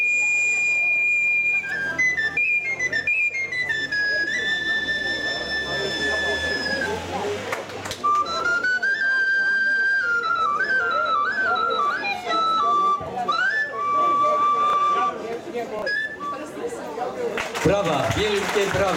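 A simple folk flute with finger holes, played solo by a member of a Ukrainian folk ensemble at an outdoor harvest festival, carries a bright, sustained melody with shifting notes over faint crowd murmur.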